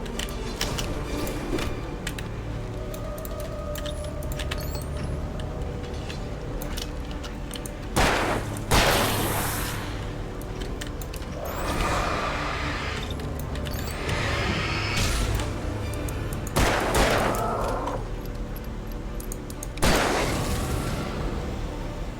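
Gunfire in the Alan Wake Remastered video game, a series of loud sharp shots spaced several seconds apart over a constant low rumbling game ambience, with no talking.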